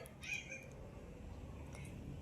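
Cats meowing on a boarding-house roof, a short high meow standing out early over a steady low background hum, fairly faint and somewhat distant.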